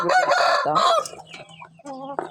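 Backyard chickens being fed leftover food, with close, loud clucking and squawking calls, several overlapping bursts in the first second followed by quieter scattered clucks.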